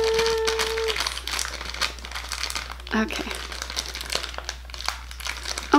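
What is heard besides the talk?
crinkling plastic packaging being opened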